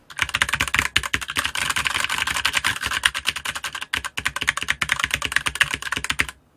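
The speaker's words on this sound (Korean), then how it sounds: "청축보다는 적축이 좀 더 덜 시끄럽다는 걸 알 수가 있습니다" Rapid, steady typing on a SteelSeries Apex 7 mechanical keyboard with red switches, a dense run of soft, close key clacks with two brief pauses, no voices.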